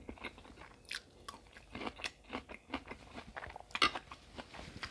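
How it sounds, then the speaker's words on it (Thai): Close, quiet chewing of soft-boiled eggs, with steady wet bites and mouth sounds repeating in an irregular rhythm, no talking. "กินไข่เยอะมาก สามใบแล้ว"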